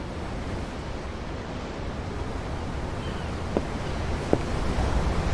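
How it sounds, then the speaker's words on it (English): Ocean waves in the Tales of Arise video game wash in a continuous, breezy surf roar heard from a ship's deck, with two faint clicks partway through and no voices. "I'm looking at the ocean."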